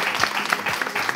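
Audience applause in a hall, a brief burst of many hands clapping with crisp individual claps audible, close and fairly loud.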